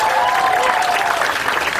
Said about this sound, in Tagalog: Yung palakpak nyo na ganyan, yan ang nagbibigay ng energy sa mga speaker